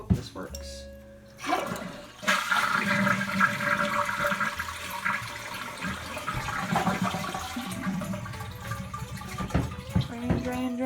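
A broken household toilet, damaged in an earthquake, is flushed: a loud rushing swirl of draining water that builds and then gurgles down over several seconds, with a person talking over it.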